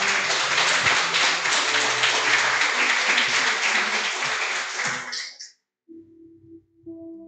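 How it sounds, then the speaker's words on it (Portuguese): A church congregation applauds loudly and steadily for about five seconds, the clapping dense and close before cutting off abruptly, followed by a brief stretch of low tonal sound. "Vamos aplaudir ao Senhor?"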